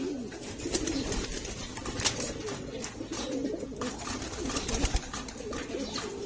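Pigeons coo in a loft, soft repeated low calls overlapping through steady background hum, with a few faint chirps and clicks scattered across the scene.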